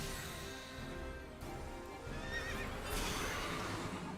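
A horse in Final Fantasy XIV neighs and whinnies twice, the second call louder and higher, with clip-clopping hooves underneath and no talk.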